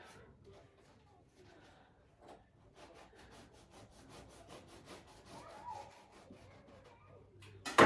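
A knife saws back and forth through fried sausages for hot dogs, giving faint, repeated rhythmic scraping strokes close by, with a louder clatter at the very end.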